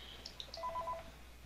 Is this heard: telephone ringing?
yes